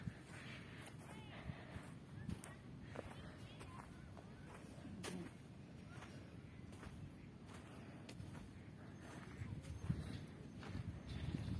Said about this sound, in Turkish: at yürüyüşü. Tırıs. Atlar tırıs gidiyor.